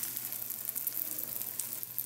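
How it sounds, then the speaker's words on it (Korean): Tofu frying until golden in a pan of hot oil, a steady close sizzle that runs the whole way through without a break, with no voices over it. "노릇노릇하게 지져진 두부"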